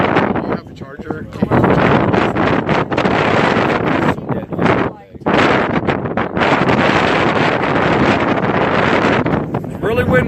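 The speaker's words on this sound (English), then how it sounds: "Really windy out here" Strong gusts buffet the microphone outdoors beside a prison, a loud continuous roar with brief dips around the middle, filling the whole stretch with no clear speech.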